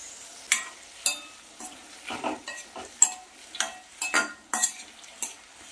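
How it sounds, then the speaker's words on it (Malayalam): Onions sauté in oil with curry leaves for a chicken chinthamani dish, a quiet bed of frying beneath a series of sharp spatula scrapes and knocks against the pan, roughly one every half second; nobody talks. "ഈ ഉള്ളിയൊക്കെ ഈ എണ്ണയിൽ കിടന്നൊന്ന് കളർ മാറി വരണം അപ്പോൾ ഇതൊന്ന് വഴന്ന് വരട്ടെ"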